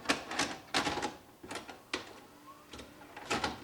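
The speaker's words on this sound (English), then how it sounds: "let's put the tape in." A VHS cassette is slid into a VCR, giving a run of close, sharp plastic clicks and clunks with brief mechanical whirs between them and no talk.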